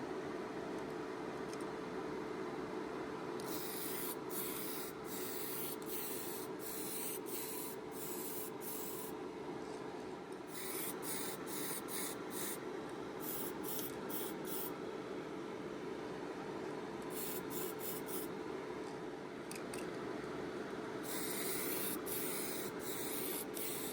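Spray paint hisses onto a 1/24 Monogram Dodge Challenger model kit in repeated short bursts, close and fairly soft, separated by brief pauses over a steady background hum.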